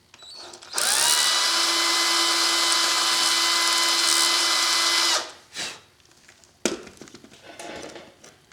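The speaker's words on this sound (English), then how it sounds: "drill me a hole right down through them" A power drill bores a hole through parts of a handmade kerosene lantern, whining steadily at high speed for about four seconds close up, then stopping, followed by a few clunks and handling noises.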